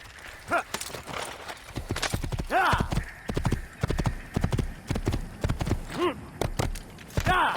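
Steady clip-clop of a horse's hooves walking in the video game Assassin's Creed 2, with the horse snorting and whinnying over the rhythmic steps, close by.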